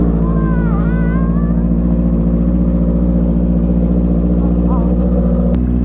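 A Honda CBR650R superbike engine drones loudly and steadily close by, with a low, constant idle hum and faint talk underneath.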